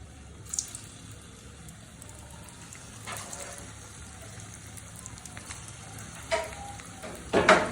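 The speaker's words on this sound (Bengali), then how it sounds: "তেলটা গরম হয়ে গেছে। এখন আমি আলুর বড়গুলা দিয়ে দিচ্ছি।" Potato balls dropping into hot oil in a wok give a soft, steady sizzle, with louder bursts of crackling and splashing as more pieces go in near the end.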